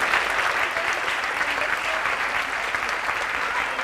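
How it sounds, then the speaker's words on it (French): A festival audience at a Mediapart event applauds steadily, a dense, even wash of many hands clapping that holds at a constant level throughout. "Je remercie Karim Katan, applaudissez-le."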